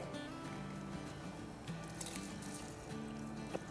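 Soaked basmati rice tipped into a pot of water, giving a soft squishy splash and faint drips, quiet and close with no talking.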